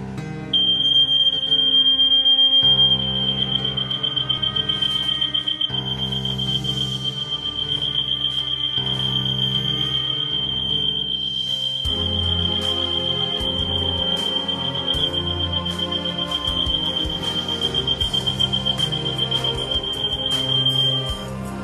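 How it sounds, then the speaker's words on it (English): A traditional household smoke detector alarm sounds continuously, a loud, piercing high-pitched tone held steadily throughout, with a low background sound running beneath it. "One example with the traditional smoke detector"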